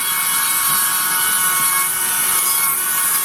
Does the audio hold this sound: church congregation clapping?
no